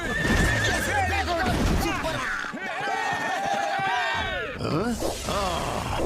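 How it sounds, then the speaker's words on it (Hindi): A cartoon horse in Motu Patlu neighs loudly in repeated whinnies, with clip-clop hoofbeats within a dense, busy mix of animated sound effects. "चल मेरे घोड़े"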